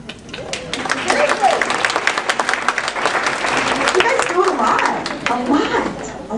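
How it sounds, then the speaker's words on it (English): An audience at a February meeting claps steadily for several seconds, a dense close patter of hands with a few chuckles and murmuring voices mixed in. "I'd like to give you a round of applause."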